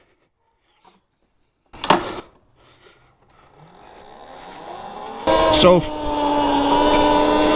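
A Talaria xXx electric dirt bike fitted with a 54-tooth sprocket and non-O-ring chain, heard after a brief clunk as its motor whine rises steadily and then jumps louder into a strong near whir, with a short spoken word at the start.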